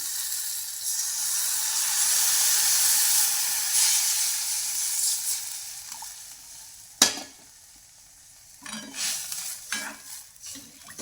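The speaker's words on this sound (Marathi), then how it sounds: "पाण्याला उकळी येऊन द्यायच्या" A pot of water with sesame seeds, salt and leaves heats toward a boil for shengole, a steady rushing hiss that fades after several seconds, then one sharp clink and some light clattering.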